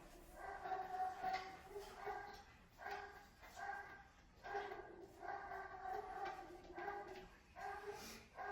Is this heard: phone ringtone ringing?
no